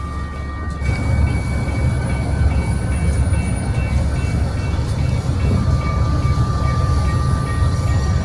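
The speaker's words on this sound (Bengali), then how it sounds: "ট্রেন চলে যেতেই আমরাও যেতে শুরু করি।" A train rumbles past at a level crossing on the road from Dhaka toward Cox's Bazar, heard close and loud as a steady roar of wheels and cars rolling by for several seconds, with a faint high whine above it.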